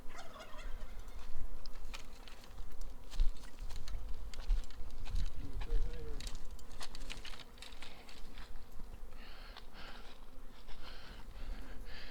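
A dense, continuous buzzing of many honey bees from a nucleus colony swarming close by, with individual insects droning past, no voices.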